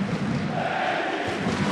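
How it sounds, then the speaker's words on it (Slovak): Football stadium crowd in the stands at a Champions League qualifier between Trenčín and Steaua, a broad steady roar of applause and cheering heard from a distance without pause. "Za čo zožal aj potlesk tribún."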